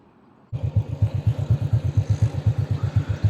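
A motorcycle starting off and riding, its engine thudding in a fast, even pulse close by, loud and steady after a quiet lead-in, without talk.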